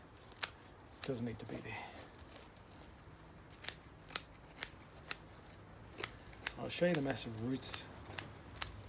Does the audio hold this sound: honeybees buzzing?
no